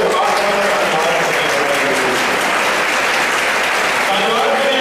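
A church congregation claps loudly and continuously, a dense, sustained burst of applause with voices underneath throughout.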